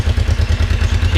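A Kawasaki 454 LTD motorcycle engine turning over and catching on a cold start, with a loud, steady, low throbbing pulse and faint mechanical clatter close by.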